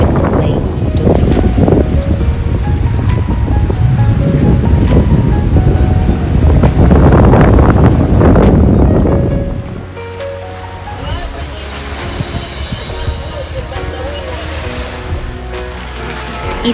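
Surf washing onto the shore of the Gulf of Finland near Montplaisir Palace, a loud broad rush with heavy wind buffeting the microphone, easing after about ten seconds into a softer wash with faint background voices.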